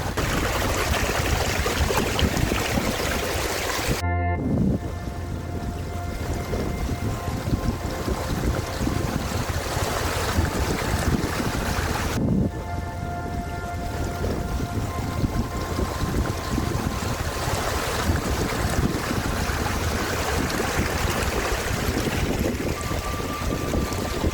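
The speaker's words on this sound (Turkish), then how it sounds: "Burası şelalenin üstü." Loud, steady rushing water roars continuously from the top of Bolu's Su Uçtu waterfall in Turkey, a dense broadband wash up close, with brief wind buffeting on the microphone.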